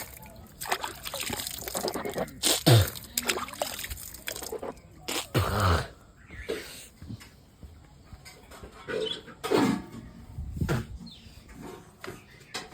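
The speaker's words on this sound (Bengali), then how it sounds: "আমি ঝট করে হাতটা ধুয়ে আসি একটু ভালো করে। হ্যাঁ হ্যান্ড ওয়াশ।" Hands washed with hand wash under a running tap: an irregular, close sequence of splashes, rubbing and trickling water bursts with short pauses between them, moderately loud.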